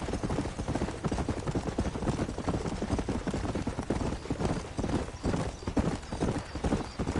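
Horse hooves trot in a steady, dense clip-clop rhythm through the Red Dead Redemption video game, loud and continuous with a busy rumble beneath and no talk over it.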